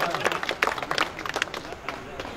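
An audience at a mushaira poetry gathering greets a poet with a short burst of scattered clapping, a crowd of hands heard close and fading out after about two seconds.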